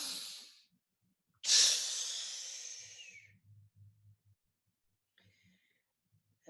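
Deep breaths during a guided breathwork exercise: a short forceful exhale, a pause, then a long rushing breath that tapers off into faint low murmurs and near silence.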